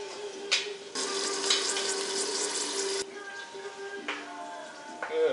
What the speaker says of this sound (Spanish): Y luego le echo el agua.